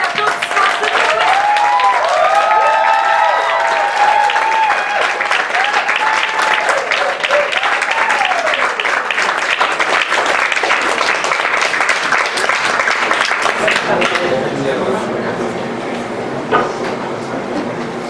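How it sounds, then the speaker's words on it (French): Recorded applause played at a slam poetry session, a loud continuous wash of clapping and cheering, with whistle-like rising tones early on, gradually thinning toward the end. "On va mettre l'applaudissement, s'il vous plaît."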